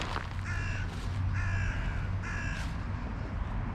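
Crows caw three times in a row at a regular pace, clear over steady low rumbling background noise, with gulls around them outdoors.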